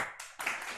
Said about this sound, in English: So one clap for appreciation for the human visual system.